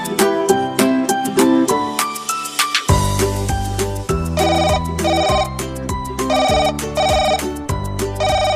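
A mobile phone ringtone plays loud and close, a repeating electronic melody with bright synthetic tones and a steady beat, with no talking over it.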